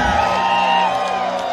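A large crowd of almost 40,000 people roars and whoops at the Qatar 2022 World Cup fan festival in Al Bidda Park, a steady, loud wash of cheering that holds throughout without a break.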